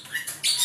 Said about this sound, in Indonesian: di sini juga ada burung cucak jenggot, teman-teman